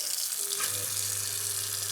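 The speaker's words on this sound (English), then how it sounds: "turn the water on" Kitchen tap water runs into a sink fitted with an InSinkErator waste disposer, a steady hiss of flow under a low continuous hum that starts partway in and holds at a moderate level.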